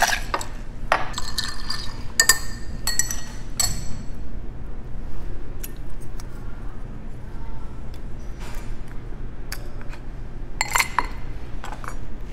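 Glass and ice clink sharply while a smoked cocktail is mixed, with a cluster of bright taps early on and scattered clinks later over a steady low background hum.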